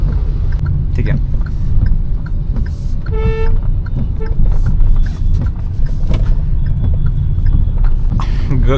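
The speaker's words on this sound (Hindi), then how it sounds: "अगर मैं फुल पंजा दबाऊँगा तो देख रहे हो, this is how easy it is to overtake with this car" A Hyundai i20 N-Line hatchback accelerates hard at full throttle in eco mode, its engine a dense, steady drone heard from the cabin, with a brief car horn toot partway through and the driver speaking over it.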